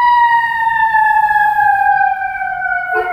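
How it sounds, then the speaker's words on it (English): An ambulance siren wails loudly just outside a window, a steady high tone sliding slowly downward for several seconds, running almost alone. "an ambulance outside of my window"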